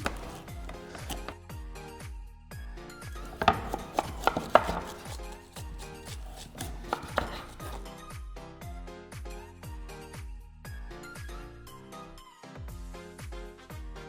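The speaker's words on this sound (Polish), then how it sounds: "no to zabieramy się za dynię, Dobrze. czyli bohaterkę tego sosu. Pokroimy ją sobie w mniejsze kawałki" A knife chopping pumpkin into smaller pieces on a board, quick, even, rhythmic taps close by, with a few sharper knocks midway, and no talking over it.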